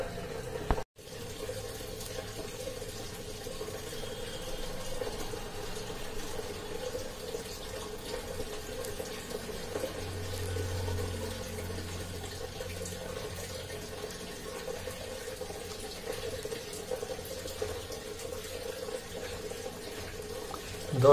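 Water runs steadily into the tub of an LG top-loading washing machine as it fills to level 10, a continuous even rush with a low hum underneath and no voices.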